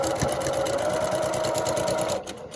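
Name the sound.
sewing machine stitching a quilt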